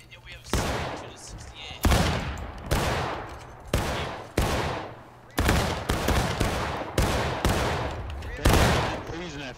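Musket volleys ring out in a 150-player War of Rights Civil War battle, about a dozen loud, sharp reports firing irregularly one after another, each trailing off in a rolling echo, with faint shouting between shots.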